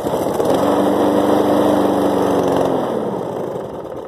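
A 2007 Snapper self-propelled lawn mower engine runs steadily after a hard cold start, a loud, close, continuous small-engine drone with a buzzy harmonic hum that eases slightly toward the end.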